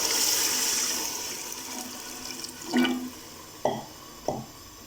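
About three quarters of a litre of water is poured into a pot of white chickpea pulao, a gushing splash that fades, followed by a few short sloshes and drips.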